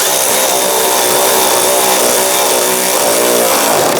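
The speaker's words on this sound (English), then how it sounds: "Let's go ahead and tighten down these 2 lower bolts." A power tool tightens the lower bolts on the front fender and grille of a 1997-2006 Jeep Wrangler, a loud, continuous, harsh mechanical whir running steadily throughout, heard alone.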